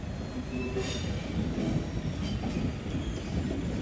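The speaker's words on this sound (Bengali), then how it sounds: "ট্রেন আসছে ট্রেন যাইতেছে" A train rumbles through Interlaken station, a continuous close rolling roar with a high wheel squeal and a faint clatter, and no talk over it.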